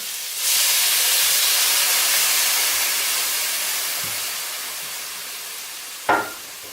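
White wine sauce for chicken fettuccine Alfredo, made with whipping cream, simmers in a pan with a steady, close broad hiss that fades slightly over several seconds, ending in a brief clink near the end.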